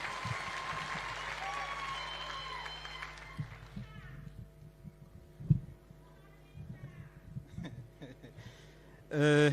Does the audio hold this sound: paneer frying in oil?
no